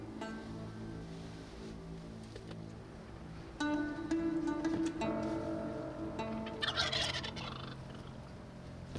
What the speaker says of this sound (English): We can hear some gobbling up top